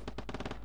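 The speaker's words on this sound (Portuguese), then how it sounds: "Estão atirando em mim?" Call of Duty Modern Warfare gunfire on PS4, a short rapid automatic burst of about six shots, loud and close in a fraction of a second.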